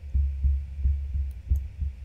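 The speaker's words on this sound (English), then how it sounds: "The place became so silent that I could hear Polina's heart beating." A heartbeat in the video game Tiny Bunny thumps in a quick, steady rhythm, about six low, soft beats over two seconds, close and alone against a faint hum.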